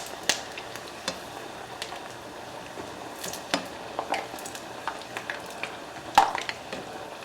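Food fries in oil on a stovetop over high heat, giving a soft, continuous sizzle scattered with sharper pops and crackles through the whole stretch, close and fairly quiet.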